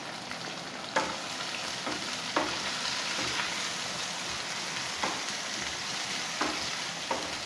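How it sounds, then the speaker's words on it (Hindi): Onion frying in spice paste for masala gravy Maggi noodles, a steady close sizzle with a few sharp scraping stirs of a spoon against the pan spaced through the frying. "प्याज को हमने हल्का सा फ्राई करना है।"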